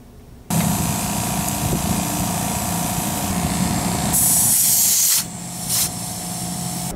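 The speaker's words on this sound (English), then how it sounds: "We got some air in the tires." Gas station air pump inflating car tires: a sudden loud steady hiss of compressed air starting after a short quiet, running continuously with a brighter burst near the end, then a softer hiss and a short puff.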